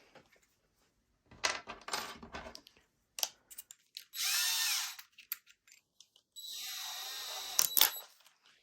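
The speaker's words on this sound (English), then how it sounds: "Okay, drill your hole." A power drill bores a hole in wood for a handmade bird feeder, with two sustained whirring bursts broken by clicks, taps and handling clatter of the tool and bit, all close by.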